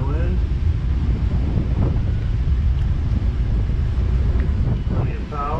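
Strong wind buffeting a Princess F45 motor yacht on a sea trial, a continuous loud roar with low rumble and engine drone underneath, steady throughout with faint wave wash.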